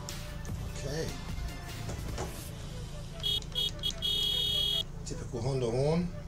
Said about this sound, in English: Typical Honda horn